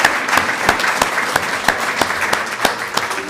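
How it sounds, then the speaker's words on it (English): Audience applause for retired educators at a Florida Retired Educators Day gathering, with steady crowd clapping and a few sharper individual claps standing out throughout. "Give another round of applause for all of our educators."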